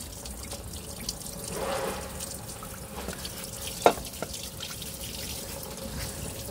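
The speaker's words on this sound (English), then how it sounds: "Coolant will drain down there." Coolant draining from the oil cooler of a Volvo double-decker bus, a faint steady trickle of liquid with a sharper drip or splash partway through and a couple of small knocks, heard up close with no speech.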